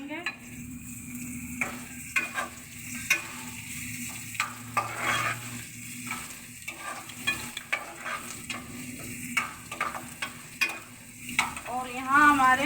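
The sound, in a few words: onions and garlic frying in a pan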